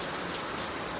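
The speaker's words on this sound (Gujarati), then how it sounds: "હાજી વરસાદ આવ્યો" Heavy monsoon rain falls steadily, a dense, even hiss of drops striking surfaces nearby.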